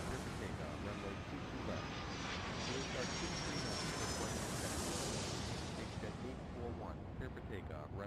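Airplane engines roar steadily during takeoff in the video game Airport Madness 3, a loud broad continuous rush that swells slightly, with no voice heard over it.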